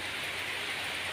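Heavy rain and strong wind during a storm make a loud, steady rushing wash with no voices.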